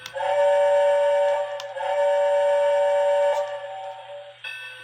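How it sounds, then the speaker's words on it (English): The bell of a Lionel O gauge Hogwarts Express model train rings continuously in a rapid metallic ding, pausing briefly and then resuming, close and fairly loud. "Let's sound our bell."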